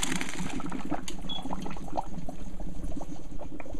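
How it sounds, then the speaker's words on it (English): Boiled basmati rice being drained, a steady rushing pour of water with bubbling and splashing, continuous and close at fairly high loudness, no talking. "Alright, so I'm gonna drain the rice now."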